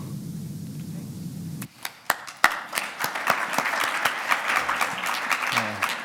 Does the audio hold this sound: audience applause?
yes